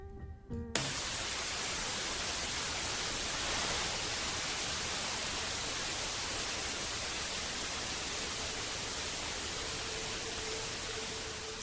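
Continuous broadband white noise for a Ganzfeld sensory-isolation experiment hisses evenly and loudly after a brief opening sound, holding a flat, unbroken level to the end.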